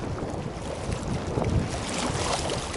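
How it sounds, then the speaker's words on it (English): Wind gusting across a reservoir at Big Meadows in Colorado during fly fishing, a steady broadband rush with buffeting against the microphone, loud and constant with no talking. "The wind's coming my right side."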